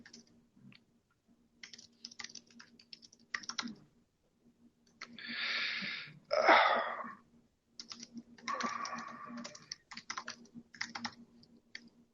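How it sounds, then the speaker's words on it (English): Typing on a computer keyboard during an online webinar session, bursts of close key clicks interrupted by a couple of throat clears or coughs, with brief quiet gaps. "I'm going to type on the Q&A."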